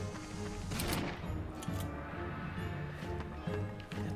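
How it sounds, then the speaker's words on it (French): Sniper fire and area bombardment in a video game: repeated sharp shots and crackling blasts scattered over a constant rumbling background, moderately faint, with no talk. "sniper plus bombardement de zone"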